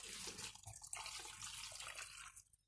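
Water poured from a mug into a cooking pot for stewing rabbit, a soft splashing trickle that runs continuously and fades out at the end, quiet and close with no talk.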